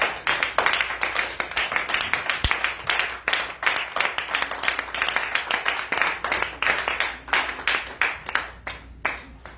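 A church congregation claps in steady rhythmic unison to acclaim the Lord, a dense continuous patter of many hands close and loud with no voices over it.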